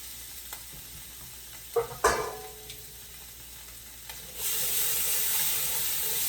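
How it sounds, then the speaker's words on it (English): Garlic frying in a pan on a home stove, with a few soft stirring clicks early on, then a steady, fairly loud sizzle that swells and holds through the second half. "Garlic cooks very fast. So you just want to cook it till it get a little fragrant"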